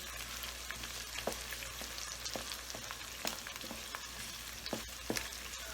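Chopped onion and green chilies fry in hot oil in a pan, a continuous sizzle and crackle with scattered sharp pops and occasional stirring scrapes.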